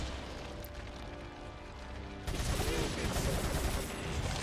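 A TMP submachine gun in Resident Evil 4 opens up midway in a dense, sustained automatic burst that fills the soundscape over the game's background ambience.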